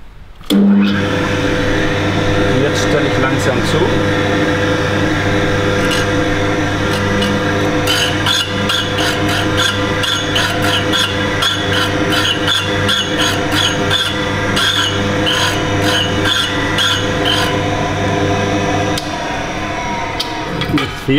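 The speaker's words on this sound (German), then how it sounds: "Diese hier, die ist zum Schleifen von Hauptlagerböcken und von Pleuellagerdeckeln oder Pleustangen geeignet." A grinding stone machines the main bearing caps and connecting-rod caps of an Audi S4 engine, a loud, steady motorized whir with rapid repeated scraping strokes layered over it, continuing throughout.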